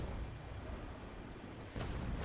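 Broadside cannon fire from a sailing warship in Naval Action, the frigate Belle Poule, heavy low rumbling booms rolling continuously with a fresh blast near the end, loud and without talk.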